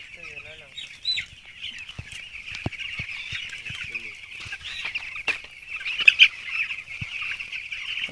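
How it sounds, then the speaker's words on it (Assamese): Thirteen-day-old chicks cheep shrilly and continuously in cold weather while drinking from an automatic drinker, with scattered light taps and knocks beneath the high, busy chorus. "পানী নিজে মুৰ্গী পোৱালিবিলাকে আহি নিজে"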